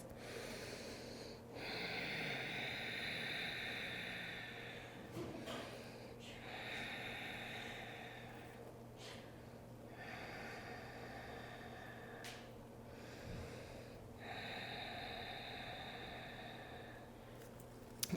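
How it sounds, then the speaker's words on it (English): Slow, deep breaths during a yoga stretch, close and steady, each long inhale or exhale rising and fading in turn, with no talking. "5 deep breaths."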